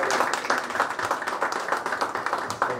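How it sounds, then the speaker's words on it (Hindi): Audience applause after a music video presentation, a dense steady wash of many hands clapping, loud and close, continuing evenly without talk. "जबरदस्त ताली होनी चाहिए"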